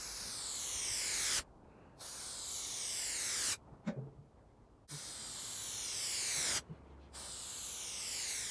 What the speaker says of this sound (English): we're going to spray a line of glue along here first and then on the other side of here